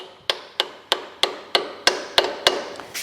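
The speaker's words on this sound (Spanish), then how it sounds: "martillito de goma" A rubber mallet taps a timing chain part into place on a Vauxhall Corsa 1.2 engine, giving nine close, evenly spaced knocks with short decays and no talk.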